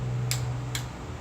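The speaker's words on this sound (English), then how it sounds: "you properly torque it with a torque wrench" A torque wrench clicks as it reaches spec on an oil pan bolt during an R1 oil pan installation. Two sharp, close clicks sound about half a second apart over a steady low hum.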